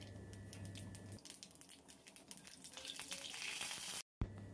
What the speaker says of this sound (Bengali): প্রথমেই আমি এখানে তেলের মধ্যে কালো জিরা দিয়ে দিচ্ছি